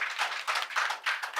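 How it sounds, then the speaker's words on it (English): Applause from a seminar audience greeting a panel of speakers, fairly quiet with soft pulsing bursts of clapping that rise and fall over a short stretch. "if you guys can all give a round of applause to our panelists over here"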